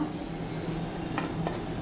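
Prawns frying in plenty of oil on a flat tawa, a soft, steady crackling sizzle with a couple of brief sharper pops.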